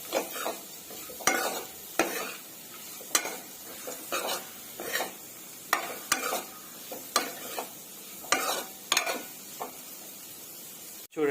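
Beetroot fry with chili powder stirred in a pan, with a spoon scraping the pan roughly once a second over a low sizzle, close and clear with no talking.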